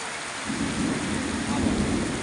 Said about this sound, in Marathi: मेघगर्जनेसह पाऊस चालू आहे